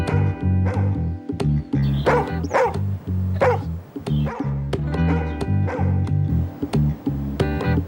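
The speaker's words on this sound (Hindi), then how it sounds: "ये भौंकने की आवाज कहाँ से आ रही है?" A dog barks repeatedly in quick, uneven bursts, close and loud, with some yipping and whiny notes between barks.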